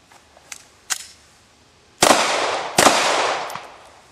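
Two loud, sharp pistol shots crack out at a shooting range, each followed by a bright, lingering ring, preceded by a few fainter clicks and taps of handling.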